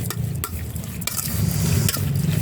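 Beef koi salad is tossed by hand with fish sauce, making close, wet squelching and rustling strokes in a quick, uneven rhythm over a couple of seconds.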